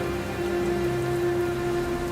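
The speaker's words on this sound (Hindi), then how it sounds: "तेज हवा के साथ बारिश और उसी बीच बिजली कड़कने लगी।" Steady rain pouring in a horror story sound effect, a dense continuous hiss with a faint low tonal hum underneath, no voices.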